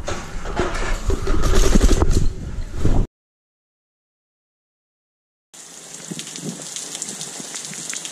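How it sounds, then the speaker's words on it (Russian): Rain and hail beat down outside a villa in Cyprus during a storm, a loud dense patter in the opening three seconds that breaks off into silence before a steadier, softer downpour resumes. "Кстати, там видно град, как стучит."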